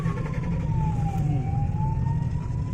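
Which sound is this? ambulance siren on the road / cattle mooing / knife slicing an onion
ambulance siren on the road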